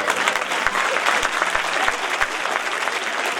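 Steady, dense applause from a large crowd at a school event, loud and continuous throughout with no break.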